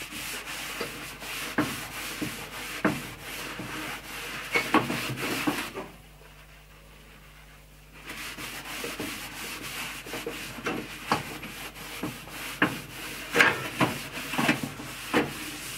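Rag or cloth rubbing a light coat of oil onto the heat deflector of a Louisiana Grills pellet barbecue, a steady close scrubbing with repeated strokes, pausing briefly midway before resuming.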